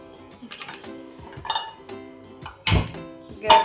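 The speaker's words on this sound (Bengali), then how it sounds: "গ্যাসে কড়াই বসিয়ে দিয়েছি।" A metal kadai (wok) is set onto a gas stove with a loud clank, then a second knock, among lighter kitchen clatter up close.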